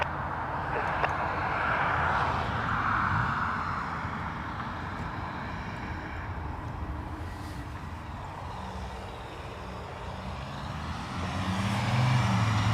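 Airliner such as an Airbus A330 landing at Dublin Airport, heard from a distance as a broad, steady engine roar with a faint whine, rising again toward the end.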